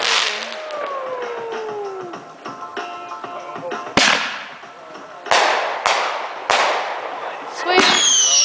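New Year fireworks in Austin going off nearby, with a whistling launch followed by several sharp cracks and bangs at uneven intervals, each trailing off, while people talk in the background.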